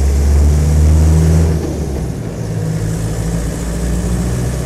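A Land Rover 90 hardtop's 2.5 diesel engine runs close by, a loud, steady rumble that is slightly stronger at first and then settles into an even idle, with no talk.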